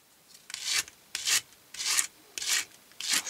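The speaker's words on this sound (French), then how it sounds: "Et puis je viens brosser." A brush drawn through yarn threads to fluff them out for a Christmas ornament: five distinct rasping strokes in a steady rhythm, close and fairly loud, with brief pauses between them.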